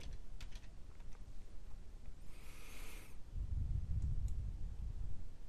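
Soft keystrokes on a computer keyboard as a spreadsheet sheet is renamed, a few quiet clicks near the start over low background noise, with no voices.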